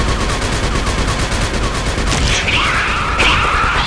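Rapid automatic gunfire from a sentry gun in the video game Aliens vs Predator 2, a dense continuous burst of loud shots with sharper cracks and impacts near the end.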